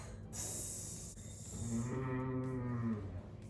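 A chorus of schoolchildren in a classroom imitating a cow's moo, drawn out and rising together, loud and close, after a brief hiss.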